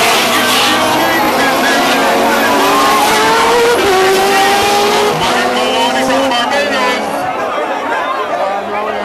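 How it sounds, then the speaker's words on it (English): Race cars at a Caribbean Motor Racing Championship event at Dover roar loudly through the first corner, engines revving and shifting with brief tyre squeal, under an announcer's running commentary. "Starting with Joe Somerville coming through corner one."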